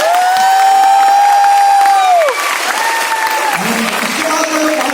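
Loud, dense applause from the audience at a Vestige network marketing seminar, filling the hall with steady clapping while sustained tones ring over it.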